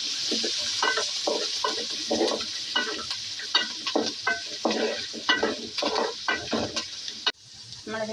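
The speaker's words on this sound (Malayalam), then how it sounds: "നമ്മളിത് സവാള മൂപ്പിക്കണം" Sliced onions and green chilies fry in a pan for village-style beef curry, with a constant sizzle broken by rhythmic, close scraping strokes of a spoon stirring them.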